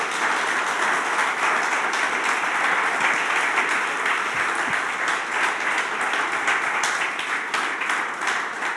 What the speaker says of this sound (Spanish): ¿Por qué le das un aplauso al Señor?